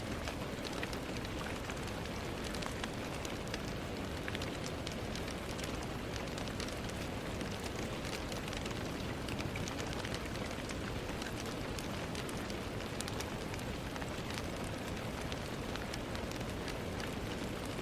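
Steady rain falls without a break, a dense, even hiss of drops on surfaces that holds at constant loudness with no voices.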